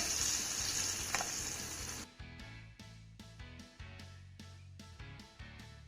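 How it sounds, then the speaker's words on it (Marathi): Hot oil tempering with crushed garlic and a pinch of asafoetida sizzles briefly, then is stirred into a spice mix, leaving a string of soft, regular scraping and mixing sounds at close range. "आता ही चुरचुरीत फोडणी आपल्याला मसाल्यावर घालायची आहे"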